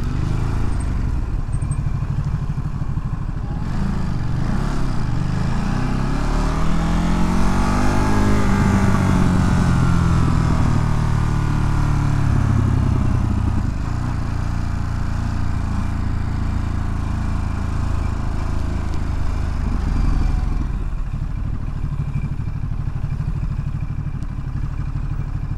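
Motorcycle ridden through city traffic between Manhattan and Brooklyn, a steady close engine drone with rising and falling revs and road rumble throughout.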